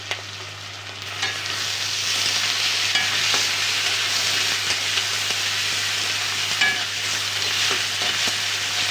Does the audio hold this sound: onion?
yes